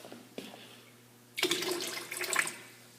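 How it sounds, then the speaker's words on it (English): Excess water is dumped from a container of glue-and-water mix for paper mâché, a short splash followed by a sustained pouring, splashing rush up close, with no talk. "So I have too much water, so I'm going to dump some of that out"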